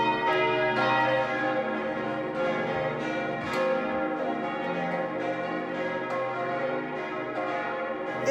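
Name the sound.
church bells ringing the evening bell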